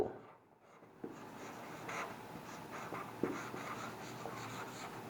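Pen scratches steadily across paper while a maths proof on ratio and proportion is written out, close and quiet, with small taps as strokes begin and no talking.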